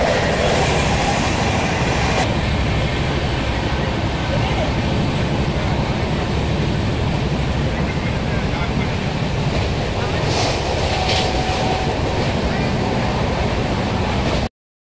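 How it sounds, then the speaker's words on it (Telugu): A train at Warangal railway station gives a loud, steady rumble and rattle of rolling cars that fills the whole stretch without a break, with a faint voice somewhere in the mix. "వరంగల్ రైల్వే స్టేషన్లో ట్రైన్ కోసం వెయిట్ చేస్తాను అన్నట్టు"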